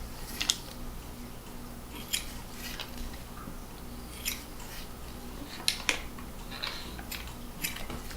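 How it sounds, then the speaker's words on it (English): Knife or scissors slicing pork skin into inch-and-a-half strips for cracklins, a series of sharp, irregular snipping clicks up close over a low steady hum, with no talking. "And I'm going to take this strip here, and we're going to cut this in probably inch and a half"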